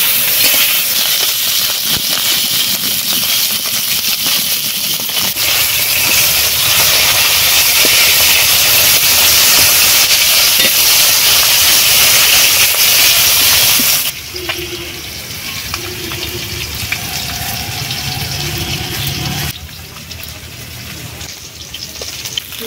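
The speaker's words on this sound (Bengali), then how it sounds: "মাছগুলো ভাজা হয়ে গেছে, এবার তুলে নিচ্ছি।" Pond-caught koi fish fry in hot mustard oil in a wok, a loud, continuous close hissing sizzle that eases slightly in two steps as frying goes on.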